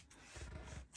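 Scissors snip off the excess ends of a crochet hair extension, a single soft, quiet cut lasting under a second that ends in a sharp click.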